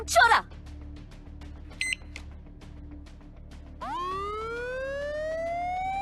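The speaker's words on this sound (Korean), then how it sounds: "비상 사이렌?" After some short electronic chirps and beeps, a video game emergency alarm siren starts up and sweeps steadily upward in pitch, loud and sustained.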